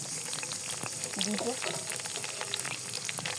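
Bay leaf, four or five chilies and sliced onion fry in hot oil for a fish bhuna, giving a steady close sizzle with a brief voice partway through.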